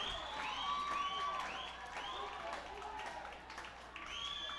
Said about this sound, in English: Fans cheering them on here at the ballpark.